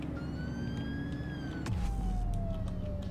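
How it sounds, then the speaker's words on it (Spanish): Police car siren in a driving game, a wailing electronic tone sweeping steadily over constant engine and road noise, shifting to a new, lower-pitched wail with a heavier rumble partway through. "A ver, sirena."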